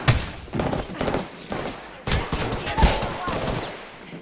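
Rapid bursts of automatic gunfire ring out in the Apex Legends battle royale shooter, several close volleys of punchy shots with thuds and impacts spread across a few seconds.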